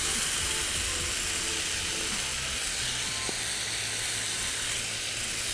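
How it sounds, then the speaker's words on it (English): Lamb steaks sizzle in a hot oiled pan, a loud, close, continuous crackling hiss that stays steady throughout, with no one talking. "you can hear that sizzle straight away as they go in"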